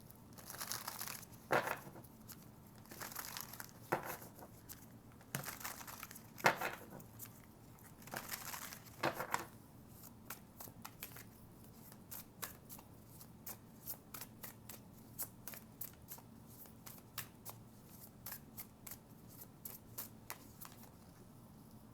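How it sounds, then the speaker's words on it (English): Tarot cards being shuffled over and over, with slow bursts of riffling and then a rapid run of crisp flicking snaps, close and quiet. "This deck is like the hardest to shuffle."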